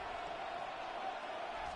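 Madden football game stadium crowd, a steady broad roar of cheering fans holding at an even level, faint and continuous without distinct peaks.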